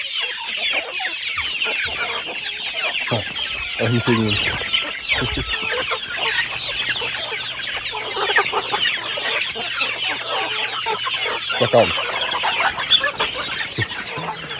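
A flock of chickens on a small farm clucks busily while being fed corn in the morning, a dense continuous chorus of close clucks and squawks, with a few brief spoken words.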